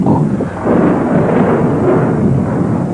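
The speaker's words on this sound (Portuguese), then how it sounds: "é só um relâmpago." Thunder from a lightning strike in a horror film, a deep sustained rolling rumble that swells after a brief dip and stays loud and close throughout, with no talking.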